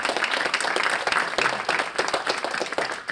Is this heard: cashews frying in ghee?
no